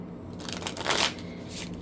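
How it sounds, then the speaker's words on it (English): A deck of tarot cards is shuffled by hand, a short, soft riffle of papery flutters and crunches heard up close. "Let's just shuffle these again."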